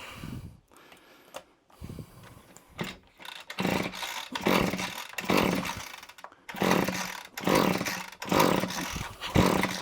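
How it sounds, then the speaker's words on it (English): A petrol strimmer that will not start is pull-started over and over. Each pull makes a short, loud, close rasping burst of engine turnover, about ten in quick succession, and none catches. "We're definitely getting smoke coming out of here, but we're just not getting anything out of the engine."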